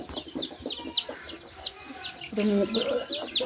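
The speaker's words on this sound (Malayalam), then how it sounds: "കുറച്ച് കോഴിക്കുഞ്ഞുങ്ങളുണ്ട് നാടൻ കോഴിയുണ്ട്" Native country hens and chicks clucking in a busy flock, repeated high cheeps and low clucks in a quick uneven rhythm, louder and fuller toward the end, with faint background noise.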